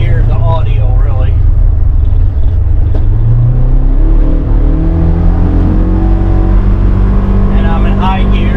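Engine of a 2022 Polaris Ranger Northstar Ultimate UTV with sound-deadening mods, driving in high gear: a loud, steady droning motor with rising pitch as it pulls, while someone talks over it.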